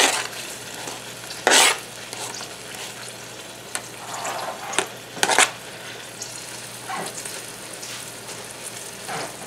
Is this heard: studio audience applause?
no